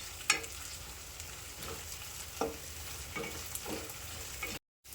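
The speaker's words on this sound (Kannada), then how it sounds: "ಜೀರಿಗೆ ಕೊತ್ತಂಬರಿ ಎಲ್ಲನೂ ರೀ ಹಾಕಿ ಮಿಕ್ಸ್ ಮಾಡ್ಕೋಬೇಕು ನೋಡ್ರಿ" Peanuts, cumin and coriander frying in hot oil for a fenugreek leaf dish, with a steady close sizzle broken by several sharp spoon scrapes and stirring knocks against the pan, no talking, ending in a brief cut to silence.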